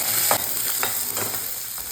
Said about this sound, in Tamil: ஜீரகம் வந்து நல்லா சின்ன வெங்காயத்தை போட்டு நல்லா ஃப்ரை பண்ணிடுங்க